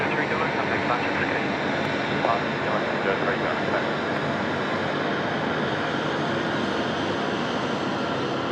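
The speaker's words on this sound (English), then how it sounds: "This is an A330." An Airbus A330 airliner comes in to land at Sydney Airport, its engines a broad, steady roar that fills the whole stretch at constant loudness, with a voice faintly present beneath it.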